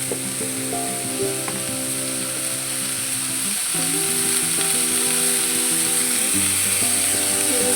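Food fries in a pan with turmeric added, making a continuous loud sizzle that swells a little midway, with occasional faint utensil scrapes and a background tonal hum.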